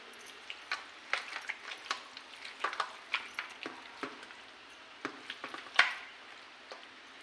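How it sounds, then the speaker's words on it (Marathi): Ginger garlic paste is stirred in a pot, producing a quiet string of irregular scrapes and light clicks from the spoon over a faint sizzle, with no voices. "आणि आलं लसणाची पेस्ट टाकूया. ते आपण चांगलं हलवून घेऊ."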